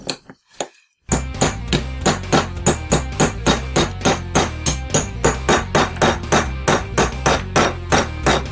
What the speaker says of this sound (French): prendre un chasse-goupille, le passer ici par l'intérieur, c'est pour ça aussi qu'il est important d'enlever le joint spi